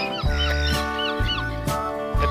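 Ducks and other birds, including swans and seagulls, call at a park, with loud nasal honking squawks in quick overlapping bursts close by.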